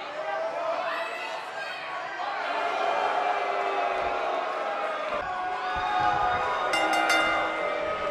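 Sold-out arena crowd in a WWE 2K wrestling game, a loud continuous roar and cheering that swells slightly over several seconds, with commentary voices running under and over it.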